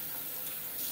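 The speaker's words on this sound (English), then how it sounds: "when I'm working on reed plates, I don't want too much water pressure." Low-pressure tap water runs steadily into a sink while harmonica reed plates from a Seydel Symphony are rinsed, a smooth continuous hiss close to the microphone with no speech.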